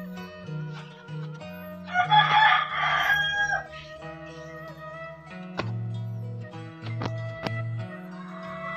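Egg-laying chickens on a small farm cluck in short bursts while a rooster crows once clearly nearby, with sharp clucks following in the quiet pen.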